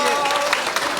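Audience applause at the close of a national security panel conference, a steady wash of many hands clapping that fills the whole moment without a break.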